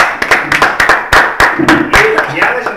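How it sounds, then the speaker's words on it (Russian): Men applauding at a live Mafia game championship event, a sustained burst of close clapping with some voices mixed in. "Прошу мужчин стоя аплодировать прекрасным дамам."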